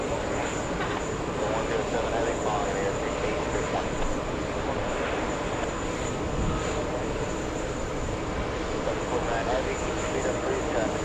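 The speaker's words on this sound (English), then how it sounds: "We have a 737 over there touching down." A Boeing 737-800 airliner arriving from West Palm Beach touches down at JFK Airport, a steady broad roar of engine and rolling noise with people talking over it throughout.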